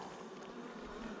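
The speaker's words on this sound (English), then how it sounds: "What a beautiful frame of bees." Honeybees crowd a hive frame with a steady, dense buzzing drone, close and even throughout a brief moment, with no talking.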